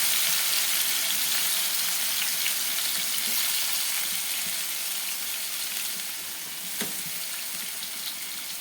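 Chicken pieces fry in a kadai with a loud, continuous, close sizzle that eases slightly toward the end, marked by a few faint spits and pops.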